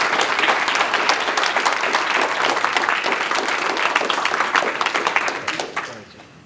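An audience at a tournament ceremony applauds with dense, sustained clapping that holds strong for several seconds before trailing off near the end.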